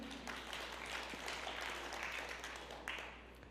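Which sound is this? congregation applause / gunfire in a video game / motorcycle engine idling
congregation applause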